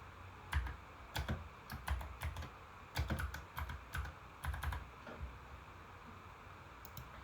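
Typing on a computer keyboard, close and fairly quiet, with irregular bursts of key clicks separated by short pauses, and no voices.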